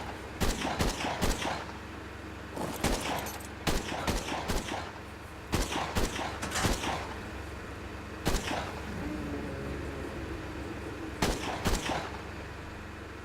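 Turret in Ark Survival Evolved Mobile firing shots in quick clusters of two to four sharp cracks, loud and close, repeating at irregular gaps over a steady low game hum.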